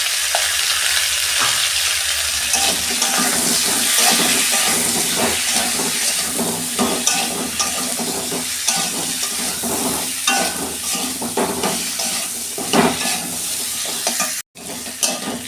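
Vegetables seasoned with salt and turmeric fry in a pan, a dense continuous sizzle and hiss with repeated stirring scrapes, loud and close throughout, with no talk over it.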